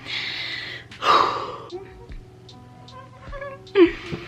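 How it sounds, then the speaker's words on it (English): Heavy, audible breaths and a sharp gasp come close to the mic, separated by small clicks and quiet pauses. "I'm breathing like so fucking loud right now"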